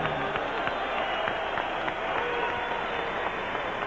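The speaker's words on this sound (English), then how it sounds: "A round of applause, please," Arena crowd applause and cheering at a 1993 professional boxing match after a round-eight TKO, Tommy Morrison versus Carl Williams; dense, steady clapping and crowd roar filling the hall without a break.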